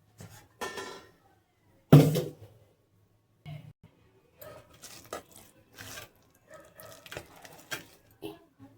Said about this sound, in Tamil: இப்போ அந்த மாவு தான் தோசைக்கு மிக்ஸ் பண்ணி போகிறேன்.